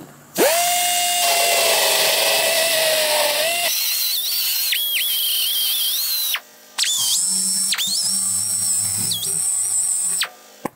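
A power sander fitted with a large 8-inch 80-grit disc smoothing the outer sheet-metal panel of a 1960s GMC/C10 truck cab, loud and close, with a sustained whine that shifts pitch as load changes and briefly cuts out twice.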